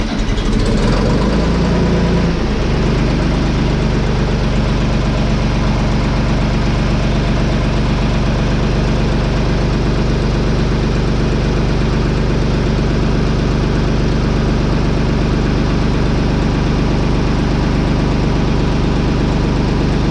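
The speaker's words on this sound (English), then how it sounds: "I like to start the tractor, get the oil flowing" A Ford 3600 tractor engine idles steadily at close range, a loud low rumble with a slight knocking pulse that stays even throughout, with no talking.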